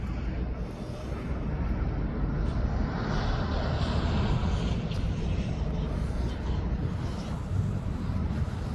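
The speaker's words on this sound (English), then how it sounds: "But as I stay on for this aircraft now, it's coming into land." An aircraft approaching to land at East Midlands Airport, a continuous broad engine roar that holds steady for several seconds, mixed with wind noise across the microphone at an outdoor spotting position.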